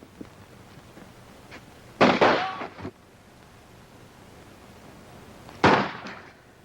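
Gunshots fired at a target in a 1942 comedy film ring out as two loud, sharp bangs about three and a half seconds apart, the first with a short rattling tail, over a quiet background.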